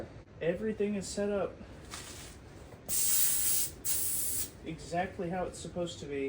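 A spray gun hisses out only air in two steady bursts of about a second each, loud and close, with someone talking before, between and after them.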